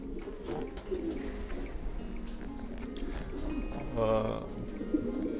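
Breeding pigeons cooing in a loft, soft repeated low coos with a fuller cooing call near the end, under low background murmur.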